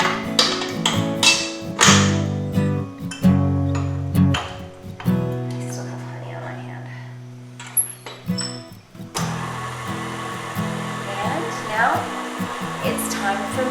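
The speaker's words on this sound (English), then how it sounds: "now I'm going to put my dough hook in and hook it up to the old KitchenAid" An old KitchenAid stand mixer with a dough hook kneads sourdough bagel dough, giving a steady, fairly loud motor whir that shifts in pitch and runs throughout.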